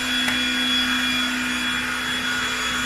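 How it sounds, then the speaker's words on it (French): A Hikeren cordless stick vacuum cleaner runs with a steady, loud whine and a strong sustained hum, unbroken and alone for a few seconds. "Le bruit, ça reste un bruit d'aspirateur."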